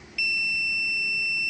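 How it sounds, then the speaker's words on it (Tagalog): Continuity tester buzzer sounds while probing a faulty capacitor on the power board of an Astron 45-inch smart TV: a loud, steady high-pitched electronic tone that starts abruptly and holds unbroken to the end. "Ngayon, may buzzer. Gumagana yung ano natin, tester natin."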